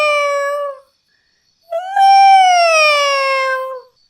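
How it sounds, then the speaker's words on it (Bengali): A cat gives two loud, drawn-out meows, close by and clear. A short first cry is followed by a pause and then a longer, wavering yowl. "মনে হচ্ছে কোনো বিড়াল মিউ মিউ করছে"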